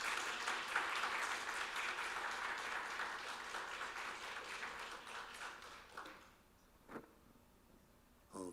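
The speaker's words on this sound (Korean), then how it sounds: "우리 박수로 환영하겠습니다" An audience at a seminar opening service applauds to welcome a speaker, with steady dense clapping that fades after about six seconds, followed by a few scattered knocks.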